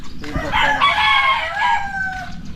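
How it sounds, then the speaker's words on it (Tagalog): A rooster crows once, loud and close, a drawn-out strained call lasting a couple of seconds. "manok siya."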